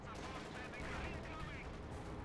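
Artillery barrage in the real-time strategy game Company of Heroes 2, a dense continuous rumble of distant shelling and gunfire, steady and moderately loud throughout.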